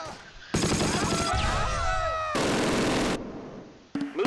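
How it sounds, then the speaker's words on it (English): An MG42 machine gun firing in the Close Combat video game, two long sustained bursts of rapid fire mixed with other battle noise, loud and continuous, with a few whistling sounds between the bursts. "That's the MG42."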